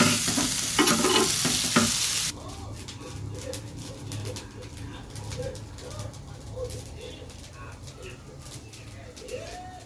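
Fish sizzling as it fries in a pan in a village-style home kitchen, a loud burst of hissing at the start before settling into a steady, quieter frying sizzle, with faint bird coos in the background.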